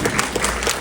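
Short burst of audience applause at a film cast Q&A for Splitsville, a dense patter of many hands clapping at once, steady and moderately loud throughout.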